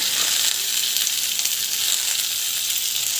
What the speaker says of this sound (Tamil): கட் பண்ணி வச்ச ஆனியன் மிளகாய் ரெண்டுத்தையும் வந்து போட்டுக்கிட்டு நல்லா வந்து வதக்கி விட்டுக்கணும்.